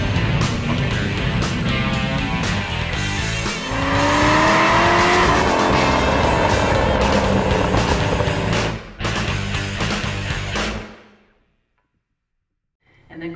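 A turbocharged Mitsubishi Lancer rally car drives hard on dirt, its loud engine revving and rising in pitch through gear changes with gritty surface noise, then cutting off abruptly into near silence.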